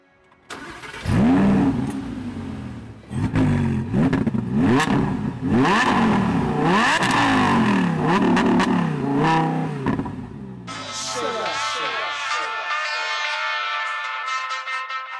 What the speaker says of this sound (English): naturally aspirated V10 engine with 610 brake horsepower and 560 newton meters of torque.